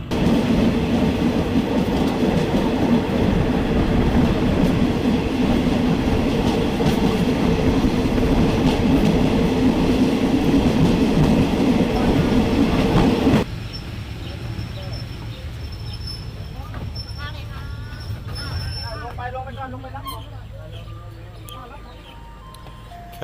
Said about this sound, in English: Okay, so that's the train just pulled into Hua Hin.